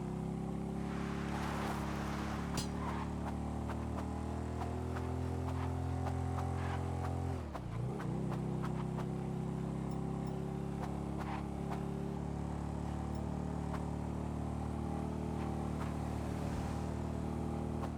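A motorbike in GTA 5 Online cruising along a road, its engine a steady low drone at constant pitch with a brief dip and recovery midway, fairly quiet and continuous, with occasional faint clicks on top.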